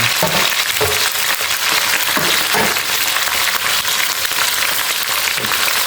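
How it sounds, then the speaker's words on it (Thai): Cabbage stir-frying in a pan with fried garlic, a steady broadband sizzle running throughout with occasional louder bursts as the vegetables are tossed. "เจียวกระเทียมให้หอม ใส่กะหล่ำปีลงไปจ้า"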